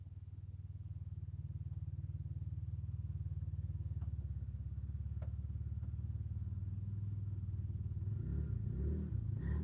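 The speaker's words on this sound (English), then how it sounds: "Moped." A moped engine passes outside, a steady pulsing putter that holds for several seconds before shifting and fading, fairly quiet and heard alone.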